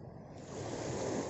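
Surf rolls steadily onto a beach near a fishing spot, a continuous broad wash that swells slightly louder partway through, with no voices.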